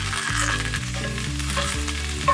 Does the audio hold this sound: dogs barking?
no